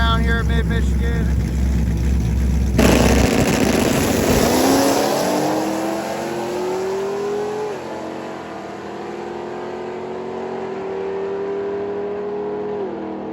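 A turbocharged LS-swapped Firebird launches at a drag strip, its engine roaring loud at the start, then climbing through a long rising note as it pulls away, while a voice talks over it.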